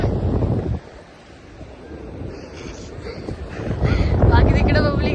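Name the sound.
waves and wind at Murud beach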